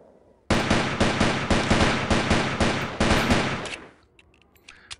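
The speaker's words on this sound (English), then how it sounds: "So I decided to take my frustration out on him by shooting him multiple times." Sustained automatic gunfire from a soldier shooting an enemy in the video game Delta Force 2, a loud rapid burst of about three seconds that stops abruptly.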